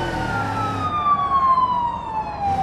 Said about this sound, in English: The siren's shitting itself in this tunnel